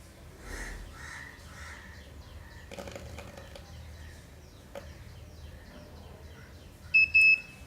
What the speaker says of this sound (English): Now as you can hear the buzz of the buzzer, so now it's ready to go